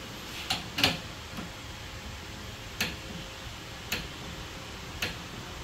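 A half-inch drive torque wrench rated 15 to 150 foot-pounds, set to 30 foot-pounds clockwise, gives several sharp, isolated clicks spaced irregularly over quiet background.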